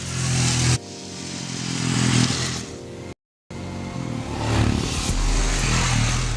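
A Royal Enfield Himalayan motorcycle rides on a racetrack in Chennai, its engine droning loud and steady with rising revs, cut briefly by a short gap before the engine noise returns strong.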